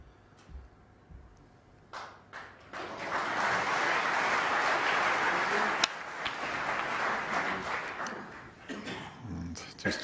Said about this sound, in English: And just applause from the other table, just on his backswing